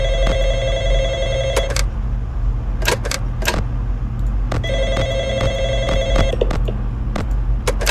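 A telephone rings in the video game Six Nights at Zany Club, repeated electronic ring bursts in two clear sets over a steady low background hum, with sharp clicks and clatters between them.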